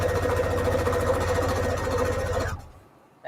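Sewing machine stitching a quarter-inch seam through a scrappy string quilt block, running in a steady fast mechanical whir that stops abruptly near the end, followed by near silence and a small click.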